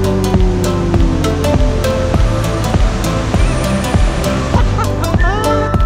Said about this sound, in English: Finally made it to the waterfall.